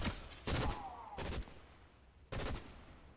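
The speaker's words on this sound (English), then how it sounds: "Cause they shooting at the thing." Bursts of gunfire in the video game Fortnite, three short loud volleys separated by brief quieter gaps, with faint background game noise between them.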